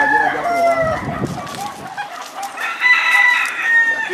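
Roosters and hens in a gamecock breeding pen, with loud nearby crowing and clucking overlapping continuously, plus some background noise and faint voices.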